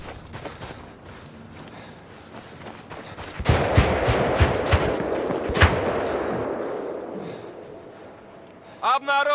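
Sniper rifle shots ring out in the shooter Battlefield: a string of sharp cracks over a steady wash of distant battle noise, with louder rapid reports clustered in the middle, and a voice speaks briefly near the end.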